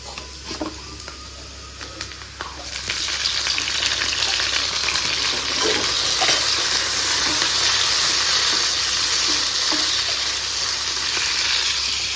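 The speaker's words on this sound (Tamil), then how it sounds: "வெங்காயம் வந்து நல்லா வதங்கிருச்சு. இப்போ நம்ம தக்காளி சேர்த்துப்போம்." Onions and tomatoes sauté in a pan for a home-cooked fish curry, a steady close sizzle with occasional stirring scrapes that swells louder after a couple of seconds and stays dense to the end.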